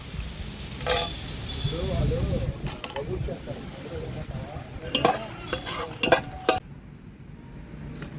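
Whole spices (star anise, mace, cinnamon, cardamom, cloves, bay leaf) and cashews frying in hot oil for kodi pulao, a soft sizzle broken by sharp clinks of a spoon against the pan, with a voice speaking over it.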